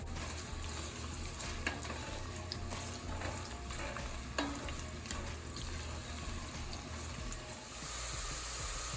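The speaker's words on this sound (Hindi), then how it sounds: "ये हम इसमें डाल देंगे ऑयल में और इसे फ्राई करेंगे" Sliced onion frying in oil, a continuous moderate sizzle with light stirring and scraping sounds over a steady background hum.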